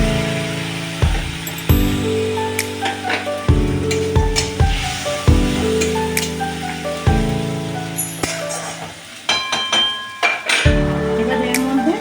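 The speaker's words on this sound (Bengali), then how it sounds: "আমি এবার এর মধ্যে সামান্য গরম জল দেব, নাহলে এটা কড়ার মধ্যে লেগে যাবে" Hot water poured into a pan of sizzling fried ginger-garlic masala while cooking mutton, a steady loud sizzle with stirring scrapes and bursts of spitting, continuing alone through the clip.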